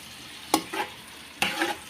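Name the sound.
stir-frying garlic paste in oil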